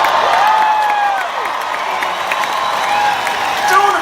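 Concert crowd at a Las Vegas show applauding and cheering, a loud, roomy roar of clapping and voices with whistles and whoops rising and falling over about four seconds.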